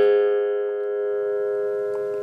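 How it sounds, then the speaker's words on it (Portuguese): An open note struck on a gourd-resonated instrument, played for the Angola rhythm with the gourd held away from the belly for a deeper tone: one sustained, ringing pitched tone that fades slowly, with no talking. "eu vou afastar da barriga para que você escute aqui o som diferenciado que vai sair da cabaça, que é um som mais grave"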